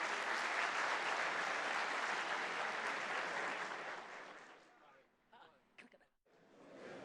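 An audience at the 2016 Katsina Economic Summit applauds loudly for several seconds. The clapping then thins out and fades, leaving a brief lull before it picks up again.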